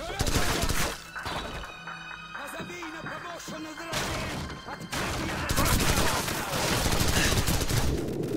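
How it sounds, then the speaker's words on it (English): Rapid gunfire in Call of Duty 4: Modern Warfare, bursts fired at point-blank range during close-quarters room clearing, loud and dense across most of the stretch with a player talking over it. "I'm shooting at this guy like point blank"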